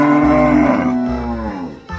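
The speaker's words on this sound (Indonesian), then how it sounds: "Wih, ternyata seekor sapi." A cow lets out one long, loud, close moo that lasts almost two seconds. It starts full and deep, then trails off with a short breathy tail at the end.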